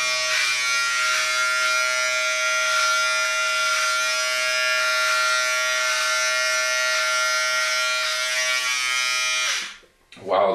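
An electric hair clipper set to guard 4 buzzes continuously and loudly close by for several seconds, then cuts off abruptly near the end.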